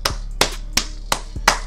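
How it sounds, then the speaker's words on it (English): Five sharp hand claps at a steady, even pace, each crisp and close, with nothing else in between. "Clap it up, clap it up, clap it up for y'all."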